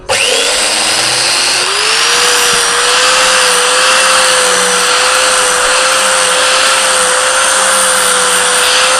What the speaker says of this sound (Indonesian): permukaan ini kita amplas sedikit